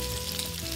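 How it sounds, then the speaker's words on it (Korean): Sausage, abalone and eggs stir-frying in a pan give off a brief, steady sizzle, close and uninterrupted, with no voices. "서툰 칼질 때문에 모양이 제각각인 소시지에 전복을 넣고 달걀 볶아줍니다"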